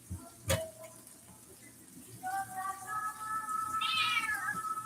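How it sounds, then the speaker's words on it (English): A house cat meows several times in a row, drawn-out rising and falling cries, fairly close and clear over a quiet room with a sharp knock early on. "My cat's fixing to meow a lot."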